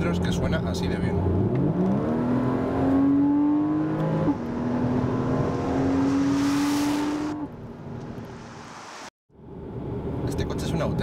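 A Porsche Cayman S 2013 with a 3.4-litre flat-six boxer engine revs up loudly and holds a rising, sustained tone for several seconds, then drops off abruptly before idling again; someone speaks over it.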